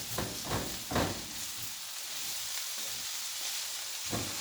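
Mixed vegetables for ciambotta, a stewed vegetable dish, cook in a pan with a steady soft sizzle and hiss, broken by a few brief louder stirring or clattering bursts near the start and end.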